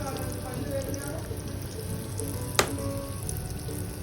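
Egg lollipops frying in hot oil, a continuous close sizzle and bubbling with one sharp clink midway, under a person talking.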